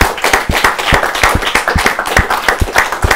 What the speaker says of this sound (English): round of applause to the guys